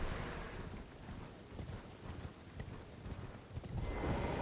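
Torrent, the horse in Elden Ring, gallops in a quick, steady run of hoofbeats over a soft, noisy background, at moderate loudness with no speech.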